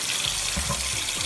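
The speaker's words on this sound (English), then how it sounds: "we're going to fill up the sink with hot water" Hot tap water pours into a sink to warm sealed bottles of honey for mead, a steady close rushing stream with no talk.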